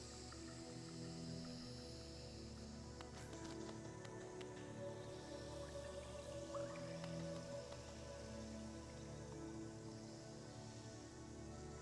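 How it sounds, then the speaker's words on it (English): Soft, wet bubbling and dripping pops in the Hollow Knight video game, faint and scattered over a steady low musical drone, with no voices. "Why is everything bubbling?"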